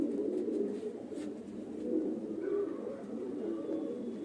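A pair of Andhra fantail pigeons, male and female, coo softly and continuously in low rolling tones close at hand, with a faint brief chirp partway through.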